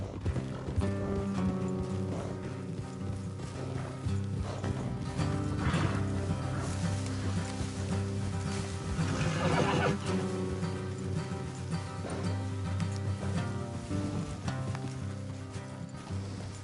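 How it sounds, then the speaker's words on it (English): Several horses gallop along a road in Red Dead Redemption 2, a continuous blur of hooves with an occasional whinny, set under a sustained orchestral music bed at steady loudness. "Let's leave the horses here and go the rest on foot."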